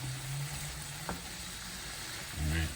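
A stir-fry on high heat, a continuous close hiss of sizzling with one short clack of a stir and a low hum near the end, no speech.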